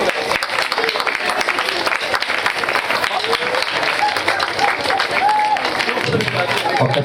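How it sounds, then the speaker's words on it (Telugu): Loud, sustained applause from an audience at a church consecration ceremony, dense clapping holding steady throughout with a faint crowd murmur beneath. "గట్టిగా చప్పట్లు కొట్టుకుంటున్నారు"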